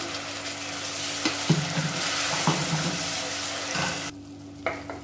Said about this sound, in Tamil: வெங்காயம் பூண்டு நல்லா வதங்கி வச்சு மீடியம் சைஸாக ஒரு தக்காளி மிக்சியில் அடிச்சதை சேர்த்துக்கலாம்.